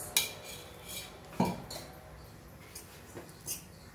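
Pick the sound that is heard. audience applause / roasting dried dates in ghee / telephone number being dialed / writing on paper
roasting dried dates in ghee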